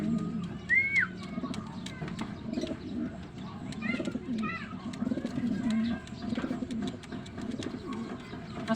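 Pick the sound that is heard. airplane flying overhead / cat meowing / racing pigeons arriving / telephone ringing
racing pigeons arriving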